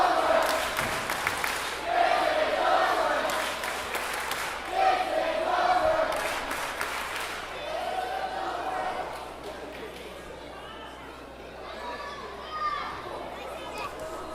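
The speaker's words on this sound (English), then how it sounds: "the crowd show their appreciation for both men" A wrestling crowd at a live show in Raynham cheering and clapping for two wrestlers, a loud, dense roar of voices and applause that gradually eases, with scattered shouts.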